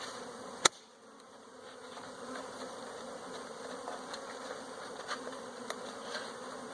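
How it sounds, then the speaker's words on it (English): Honey bees shaken from a package into a hive hum in a steady, close buzzing swarm, opening with a sharp knock from the cage and a few small taps later. "I'm going to shake these bees to one side or the other"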